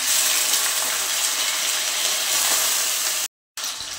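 Potato frying in oil in a kadhai, a loud, dense, hissing sizzle that runs steadily without letup, broken by a brief drop-out near the end.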